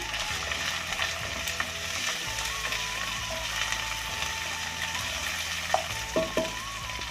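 Prawn gongura curry sizzles steadily in a pan while turmeric is stirred in, with repeated scraping strokes of a spoon and a few sharper clinks toward the end.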